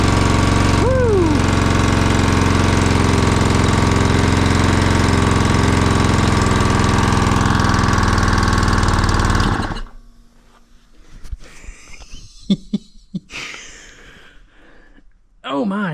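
A Honda GX120 engine on an air compressor, which had no compression, runs loud and steady with a rough, knocking drone for about ten seconds and then cuts off. A voice cries out near the start, and scattered knocks and talk follow in the quieter end.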